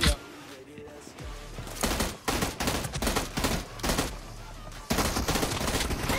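Rapid bursts of automatic gunfire from a PUBG Mobile match crackle in close, loud volleys with brief pauses between them, and excited voices talk over the shooting.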